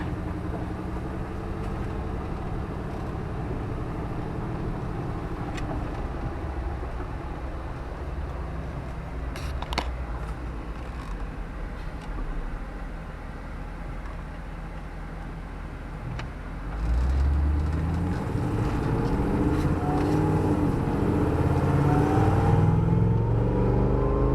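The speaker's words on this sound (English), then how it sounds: "The exhaust in this Jeep is a little bit loud" A 2011 Jeep JK engine with an LSA swap and loud exhaust drones steadily from inside the cabin, then the exhaust swells into a louder, deeper roar as it accelerates.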